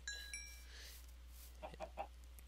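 Chickens in the Minecraft video game give a few short clucks and squawks, fairly faint and spaced apart over a low steady hum.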